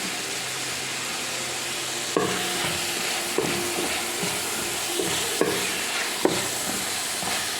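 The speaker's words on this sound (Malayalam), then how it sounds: "ഉള്ളി വരട്ടി ഇനി അതിലേക്ക് തക്കാളി ഇടുന്ന് ഇഞ്ചി ഇടുന്ന് ഇതിൽ കരിയാമ്പില ഇടുന്ന്" Onion, tomato, ginger and curry leaves sauté in a pan for chicken curry under a dense, continuous hiss, with four or five distinct scraping stirs of a spatula against the metal.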